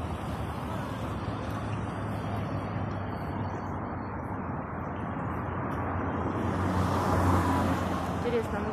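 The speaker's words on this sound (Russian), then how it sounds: "Воскресенье, праздник, много машин." Steady road traffic crossing a bridge over the Terek river on a busy Sunday holiday, a continuous broadband roar of many cars with a swell of a passing vehicle near the end.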